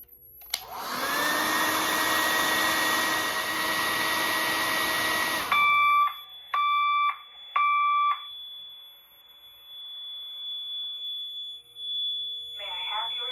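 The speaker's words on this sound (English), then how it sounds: "The signal you have just heard indicates a report of a fire in this building." A Notifier AFP-200 fire alarm system, set off by a heat detector, starts with a loud, steady horn blare. Three spaced high-pitched tone bursts follow, then a single sustained tone continues under a faint voice.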